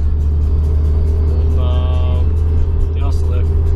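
A car engine rumbles steadily and up close as the vehicle drives toward a garage, a continuous low drone that runs throughout, with brief speech in the background.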